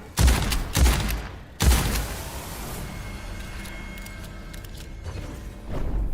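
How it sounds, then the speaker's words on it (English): Three heavy booming shotgun blasts from the game Witchfire fire in quick succession, each with a deep thump, then trail into a long decaying rumble and a mechanical reload clatter. "Yeah, shotguns are very satisfying."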